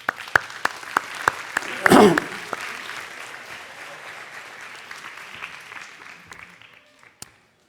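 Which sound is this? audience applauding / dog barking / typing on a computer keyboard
audience applauding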